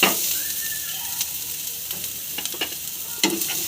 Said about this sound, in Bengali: গুঁড়া হলুদ দিয়ে আবার কিছুক্ষণ পেঁয়াজে ভেজে নেব।